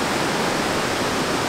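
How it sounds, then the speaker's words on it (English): Water rushes steadily through a gully stream in Jamaica, a close, loud, continuous broadband flow with no voices over it. "Water!"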